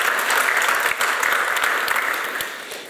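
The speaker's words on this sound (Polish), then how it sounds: "Witamy serdecznie, brawa gorące." Audience applause at the opening session of a Polish conference on a century of rural development, steady dense clapping from a large crowd that holds throughout and tapers slightly at the end.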